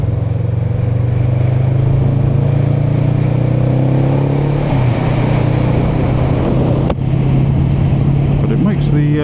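A Kawasaki Vulcan S motorcycle engine drones loudly and steadily while riding on a road trip, with wind rush over it and a brief dip in the drone near the end.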